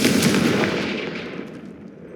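Confringo, a fire spell in the Hogwarts Legacy video game, goes off as a loud, close burst with a crackling, fiery rush that fades away over about two seconds.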